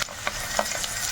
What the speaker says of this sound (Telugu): ముందుగా మనం ఆయిల్ కాగింది కదా, మిరపకాయలు వేసుకుందాము